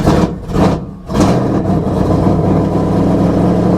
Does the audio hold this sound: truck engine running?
yes